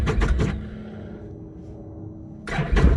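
Vehicle engine started with an ignition key: short rapid chugs at the start, a steady low hum, then another burst of cranking and catching as the engine fires.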